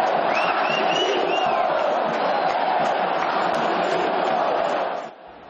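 A São Paulo football crowd roars in the stadium, a dense, loud, continuous wall of cheering with a few rising whistles, sustained for several seconds before fading out abruptly.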